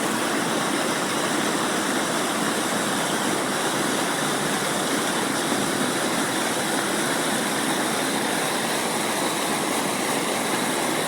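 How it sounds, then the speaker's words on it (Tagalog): Dumalon River rushes in a continuous, loud broadband roar of fast water, close and steady throughout with no pauses or voices. "Pakinggan nyo po ang ragasa ng tubig idol."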